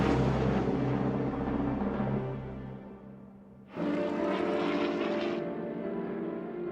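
Aircraft engine roar in a documentary about the F-86 Sabre, a swept-wing jet fighter, as a loud steady drone that drops away briefly and then surges back, alone with no voices.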